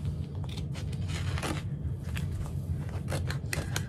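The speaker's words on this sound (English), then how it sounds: "trace around it with my scissors" Repeated crisp snips and crunching cuts of scissors through fabric and interfacing for a pouch, close up, over a low steady hum.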